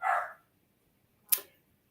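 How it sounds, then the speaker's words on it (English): A single dog gives one short bark, followed by a brief sharp snap or click, both fairly close against quiet. "A dog barks and I forget everything."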